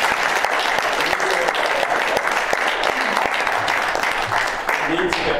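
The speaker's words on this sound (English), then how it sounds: "Just going to ask for the first round of applause of the day for Margaret" A room full of people gives steady, dense applause at the start of a Transition Together day, the clapping holding evenly from start to finish with faint voices mixed in.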